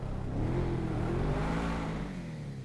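A Bugatti Divo with a maxed engine upgrade revs in GTA Online. The engine note rises and sweeps upward, then eases off, loud and close with a whirring tone, alone without speech.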